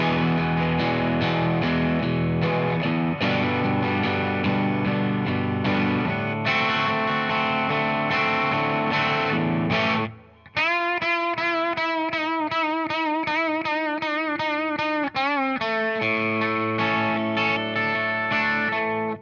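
Distorted electric guitar plays the bridge of a song as sustained chords, then a rhythmic repeated figure with wavering effects before returning to held chords.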